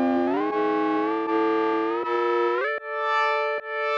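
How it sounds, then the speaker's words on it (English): Inharmonious FM synth tones from a Liven XFM, its pitches morphing through intermediate values, sustain as a dense, steady buzzing drone that slides upward and settles into a brighter, clearer tone near the end, with brief dips in level. "So you will probably hear a lot of inharmonious sounds."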